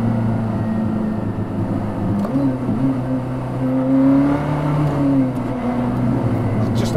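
A hypercar engine revs through a downshift with automatic rev matching switched off, a sustained droning note that rises and dips under road noise, fairly loud and close, with no talk.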